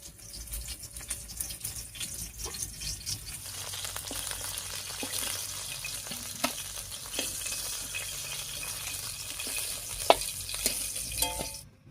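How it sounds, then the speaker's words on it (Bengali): Whole dry red chillies and cumin seeds are tempered in hot oil left over from frying rui fish, giving a moderate continuous sizzle with scattered clicks and light stirring scrapes, with no talk. "এবারে গোটা জিরা আর শুকনো লঙ্কা দিয়ে ফোড়ন দেব।"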